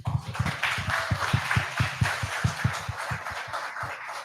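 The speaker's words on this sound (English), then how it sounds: "Clap it up for that." Audience in a conference-style room clapping in response to a speaker, a steady run of close, distinct hand claps with a loose rhythm that thins out toward the end.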